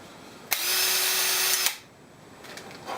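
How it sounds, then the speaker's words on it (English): A power drill drilling into a metal bracket whines loudly for about a second before cutting out abruptly as the bit binds, followed by quieter faint rattling. "Oop, drill got stuck."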